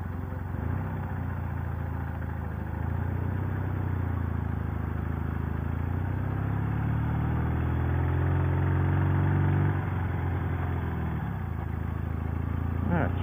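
A Martini Racing sidecar motorcycle engine idles with a steady low rumble, its pitch rising briefly as the throttle is blipped, close and continuous.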